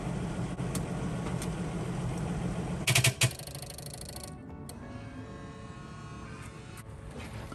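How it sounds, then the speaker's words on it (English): A 2009 Mercedes-Benz ML 350 fuel system primes with a steady electric pump buzz and hum. A brief louder whirring burst comes near the middle, then the drone carries on evenly. "Priming the fuel system."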